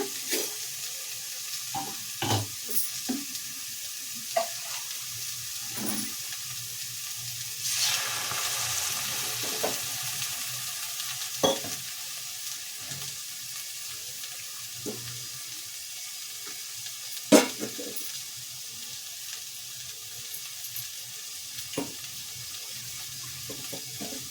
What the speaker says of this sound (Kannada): ಈಗ ಒಂದು ಸ್ವಲ್ಪ ನೀರನ್ನ ಸೇರಿಸ್ಕೊಳೋಣ